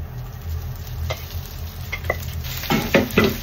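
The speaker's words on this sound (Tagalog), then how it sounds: "Lagay na natin ang rice." Rice being stirred into a hot pan for garlic rice, giving a soft steady sizzle with a few light scraping and clinking strokes that grow busier toward the end.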